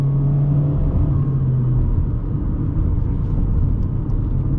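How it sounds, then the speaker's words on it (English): The engine of a 2021 Honda Civic sedan hums as a steady, loud low rumble from inside the cabin, rising slightly as it revs toward about 3,500 RPM. "you kind of hear the little engine wake up just a little bit"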